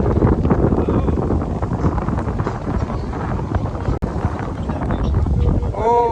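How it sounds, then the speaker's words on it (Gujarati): Steady wind blows hard across the microphone at the riverside Nilkanthdham Swaminarayan temple complex in Poicha, a constant loud rumbling buffet that continues throughout with only a brief dropout. "મસ્ત પવન આવે અહીંયા"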